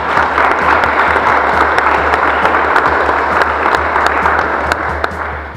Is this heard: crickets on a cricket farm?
no